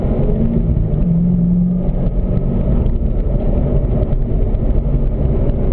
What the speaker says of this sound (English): Working our way to upshift into 4th gear.